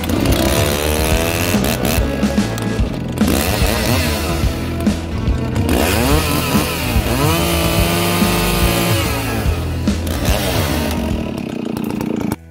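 A 1987 Husqvarna Model 61 chainsaw, 61.5 cc with a freshly sharpened chain, cuts firewood in the bush; loud, close engine howl rising and falling in pitch as it bites into the wood, revving throughout.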